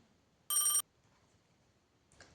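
A single short burst of an electronic telephone ring, loud and close against near silence, followed by a faint rustle.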